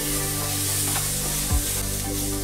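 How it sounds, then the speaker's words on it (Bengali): Green chillies fry in hot oil for a paneer recipe, giving a steady, dense sizzle that stays loud and even throughout with a brief clatter partway through and no talk. "আমার 1 মিনিট ভাজা হয়ে গেছে।"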